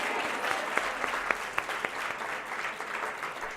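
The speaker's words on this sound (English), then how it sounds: "That was charity applause, okay?" A room of attendees at a women's leadership network launch event claps in a modest, fairly quiet round of applause, a few distinct nearby claps punctuating the softer crowd wash.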